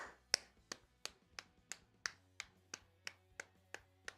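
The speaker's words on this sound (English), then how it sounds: "He claps to the crowd." Steady rhythmic hand clapping from a basketball arena as the crowd applauds a player's curtain call, about a dozen evenly spaced claps standing out crisply over a faint low background hum.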